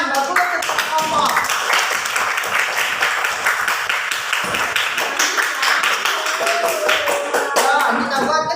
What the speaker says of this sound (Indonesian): Tepuk tangan, bagus untuk kelompok.